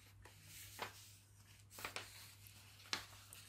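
A sheet of paper is folded in half to make a paper aeroplane, heard as a few soft close crinkles and sharp creasing swipes over a faint steady low hum, quiet and without talk.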